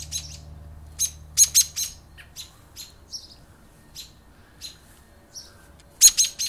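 Birds calling near a birdhouse in a tree in a yard: scattered sharp chirps and short calls, some in quick pairs, close and clear against a quiet background with a faint low hum.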